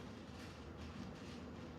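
A train rumbles by at a distance, a steady low droning roll with faint rhythmic clatter holding even for about two seconds, with no voices.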